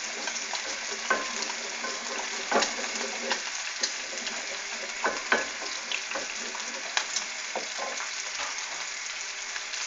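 Bacon and scrambled eggs fry in a pan, giving a steady bright sizzle with scattered pops and crackles throughout, close up and with no voices.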